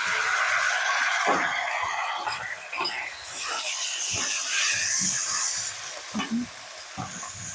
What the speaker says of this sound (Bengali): এবার চিকেনগুলো দিয়ে দেব।